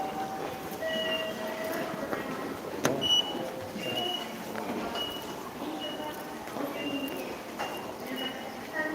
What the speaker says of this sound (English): This is Japanese train.